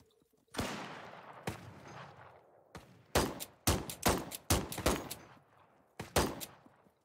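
Gunfire in the Wild West Online video game: about ten sharp, loud shots in an uneven volley, some fired in quick succession, each trailing a short echo, with no talking.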